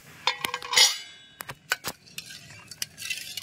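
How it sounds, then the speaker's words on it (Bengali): A metal lid is lifted off a pot of rice cooking on a sunny rooftop in 44°C heat, giving a few sharp, close clinks and clatters of cookware, with no talking. "তো ঢাকাটা খুলে নিচ্ছি।"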